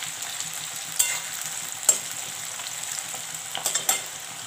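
A large onion frying in a pan until golden, with a steady close sizzle and a few sharp stirring clinks and scrapes, no voices.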